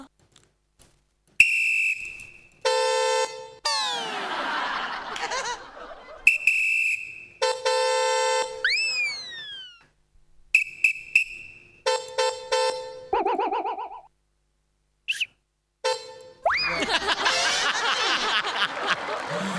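Voices mimic vehicle horns in a series of loud, tuned honks and bends, with short bursts of laughter and cheering between them.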